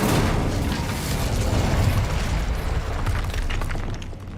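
Incendio fire spell in Hogwarts Legacy video game, a loud roaring blast of flame that holds steady for several seconds, then thins and fades near the end, with no voices.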